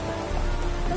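Steady rain pours down in The Witcher 3, a dense, continuous hiss of drops hitting the ground that holds level throughout without breaks.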